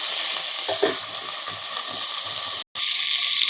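Green chillies and curry leaves sizzle loudly in hot oil in a kadai while cooking Konaseema-style crab curry, a steady dense crackle with a few stirring scrapes and a brief dropout near the end.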